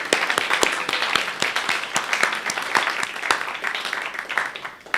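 Moderate clapping from a church congregation welcoming a reverend, a mix of distinct individual claps over a steady patter that carries on throughout without fading.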